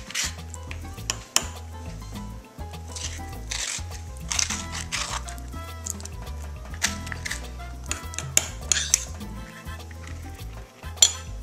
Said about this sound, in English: now just use a spoon to scoop the avocado right into the bowl of the pestle